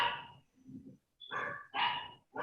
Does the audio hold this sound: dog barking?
yes